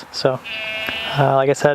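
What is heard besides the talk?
goats bleating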